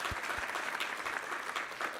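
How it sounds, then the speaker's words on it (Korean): A church congregation claps together during a Sunday service, dense continuous applause filling the room at close range. "우리 하나님께 감사와 영광의 박수 올려드리겠습니다."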